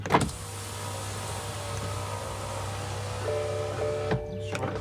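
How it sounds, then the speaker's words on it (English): A BMW F20 1 Series 118i M Sport door's electric window motor runs in a steady whirring drone, close up, with its pitch shifting near the end before it stops with a soft clunk. "Door motor."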